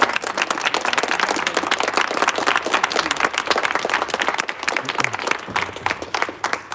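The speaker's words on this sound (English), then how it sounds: "Let's give her a round of applause for flying all the way" An audience at a city council meeting gives a steady, full round of clapping that runs for nearly seven seconds with no break, fading slightly toward the end.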